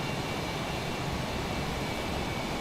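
A Boeing F/A-18 jet engine roars in Microsoft Flight Simulator 2020, a dense, steady broadband rumble with a constant whine running at even loudness and no speech.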